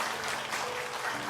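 A church congregation claps to congratulate a scholarship recipient, heard as a brief, fairly quiet and even patter of many hands with a faint room hum underneath.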